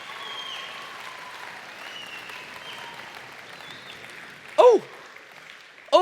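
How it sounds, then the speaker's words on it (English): Applause from an awards-night audience at the FMG Young Farmer of the Year ceremony, a soft, steady wash of clapping heard from a distance, with two brief voice bursts near the end. "A round of applause for Tim Danjan"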